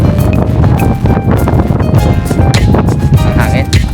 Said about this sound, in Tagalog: Masyadong hangin.